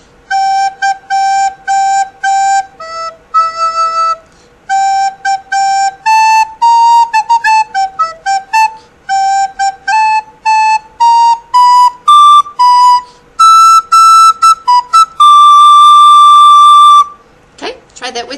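A recorder plays a quick, bouncy melody up close, with short detached notes, repeated phrases and a long held note near the end.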